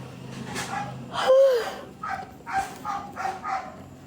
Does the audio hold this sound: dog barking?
yes